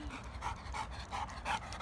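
A dog panting hard after running downhill and uphill, a fast, steady rhythm of close breathy huffs, about six or seven breaths, with no talk over it.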